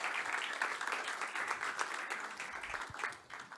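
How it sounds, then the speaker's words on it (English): Audience applause at the end of a tech talk on React routing, a steady wash of many hands clapping that holds at an even level from start to finish and eases off only slightly near the end. "So let's give a round of applause."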